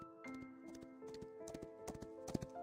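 Horses' hooves clip-clop in an irregular, overlapping rhythm through a forest scene in the Love and Deepspace video game, set against sustained tonal music, moderately loud with no talking.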